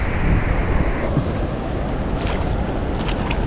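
A historic waterfall at a fishing spot roars with a loud, steady broadband rush of falling water, constant throughout, with faint higher splashes near the end.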